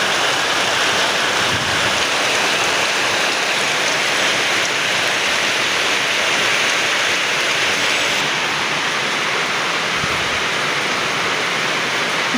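Strong wind rushes in a continuous broadband roar during a heavy rainstorm at a school in Tres Marias, with a few gusty swells and dips in loudness.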